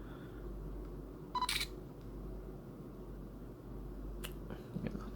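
A Nikon 1 J5 mirrorless camera fires its shutter, a short sharp burst of clicks, then a fainter single click a few seconds later, close up in a quiet room.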